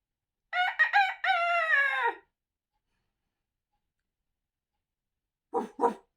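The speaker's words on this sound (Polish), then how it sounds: "usłyszeli przeraźliwe pianie koguta" A rooster crows loudly once in a long harmonic call, then after a pause a couple of short, sharp barks from a dog follow.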